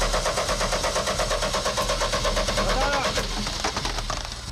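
A car engine being cranked during a check for a leak from a cracked fuel line, a rhythmic pulsing starter churn at steady volume that keeps going for several seconds, with voices talking over it.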